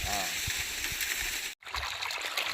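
Water gushing steadily from the outlet pipe of a solar-powered double stage pump pushing water 1200 feet, a loud continuous outdoor rush with a brief cut near the end.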